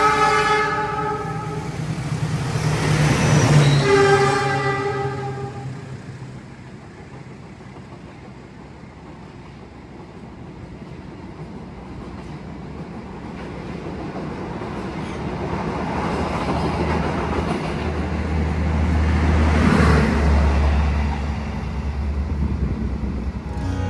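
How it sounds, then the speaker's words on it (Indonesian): The KA Progo train departs Yogyakarta station. A loud, sustained horn blast opens, then comes a growing rumble and clatter of wagons rolling past, and a second, lower horn sounds later. "Jam 13 lebih 10 menit tepat waktu kereta api Progo berangkat"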